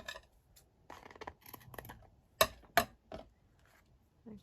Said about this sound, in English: And then I'll just snip that off.